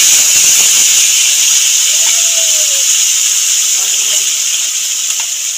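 Tomato with whole cumin, coriander, ginger and green chilli is added to hot oil in a pan for a soybean curry, giving a loud, steady hiss and sizzle close by.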